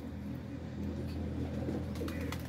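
A pet pigeon coos softly in a quiet indoor setting, a low repeated throaty murmur running steadily under faint background noise.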